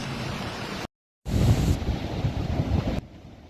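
Heavy wind from Hurricane Beryl roars across the microphone in a dense, rumbling gust that briefly cuts out before surging back, loud and close.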